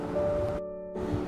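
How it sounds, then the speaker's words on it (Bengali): Chicken pieces frying in hot oil for biryani, a dense crackling hiss that cuts out briefly partway through before returning. "এই তো চিকেন গুলো ভাজা হচ্ছে।"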